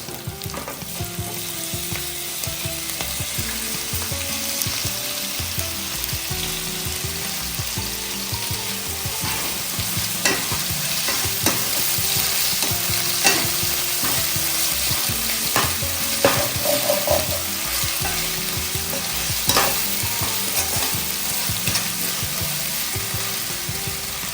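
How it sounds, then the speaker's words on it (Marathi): Chopped tomatoes fry in a pan for veg biryani, a loud continuous sizzle with scraping stirs and clinks from a utensil running throughout, close and steady with no talking. "ते आता आपण टाकणार आहोत हे चॉप केलेले टोमॅटो"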